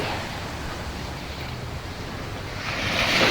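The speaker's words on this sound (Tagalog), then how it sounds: "malakas ng agos ng tubig" Steady rushing water and surf roar continuously close by on a seashore, with wind buffeting the microphone and the wash growing louder toward the end.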